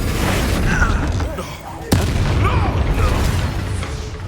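Confringo blast spell going off in Hogwarts Legacy combat: a loud booming burst with a sharp crack near the middle, set over a dense rumble of battle noise and character voices.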